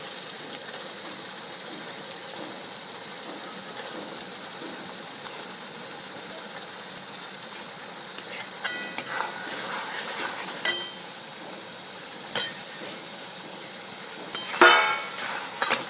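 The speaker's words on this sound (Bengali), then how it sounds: "এরপরে এর মধ্যে আমি একটা একটা করে মাছগুলো ছেড়ে দেবো" Bata fish fry in spiced masala oil in a pan, a steady close sizzle with scattered pops and light utensil clicks.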